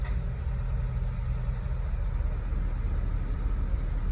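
A 2005 Mitsubishi Lancer engine runs at a steady idle after its transmission was reinstalled, a constant low rumble heard close up with no talking over it.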